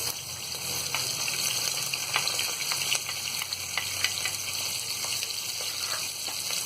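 Chopped onions fry in a pan for masoor dal, a steady close sizzle with crackling pops and occasional stirring throughout.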